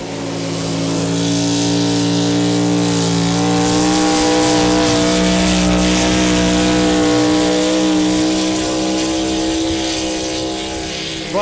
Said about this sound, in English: baddest trucks and tractors on the planet were back in Rock Valley for the 12th annual Thunder in the Valley Outlaw Truck and Tractor Pull